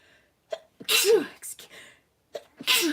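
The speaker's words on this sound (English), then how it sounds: "I have a sneeze coming on." A single loud sneeze bursts out between stretches of someone talking, close to the microphone.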